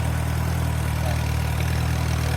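An Allis Chalmers tractor engine runs steadily as the tractor drives through weeds, a close, even low rumble with no talk over it.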